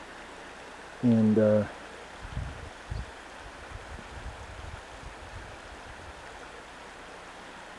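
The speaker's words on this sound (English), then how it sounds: "This is Pole Creek." Pole Creek in the Colorado mountains flows in a steady, broadband rush of water that runs continuously throughout, with a brief spoken word near the start and a few soft bumps under the constant stream.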